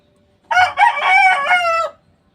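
A single rooster crows loudly and close by, one long drawn-out call lasting over a second, with quiet surroundings before and after.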